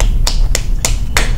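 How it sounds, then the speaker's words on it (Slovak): Four sharp hand claps spaced evenly about a quarter second apart, loud and close against a low background rumble, with no talking. "To je nejak tleskanie."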